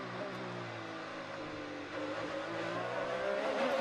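IndyCar race cars at the Chevrolet Detroit Grand Prix street race scream past with high-revving engines, the pitch rising and shifting as one car accelerates, loud and close, while more engine noise swells near the end.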